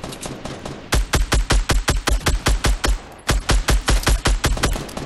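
Rapid automatic weapon fire in Fortnite: Battle Royale, two long loud bursts of evenly spaced punchy shots close up with a short pause between them.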